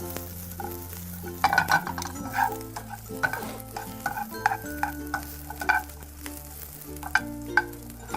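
Brussels sprouts cook in a pan with a steady sizzle, broken by scraping and light clinks of stirring throughout; no one talks.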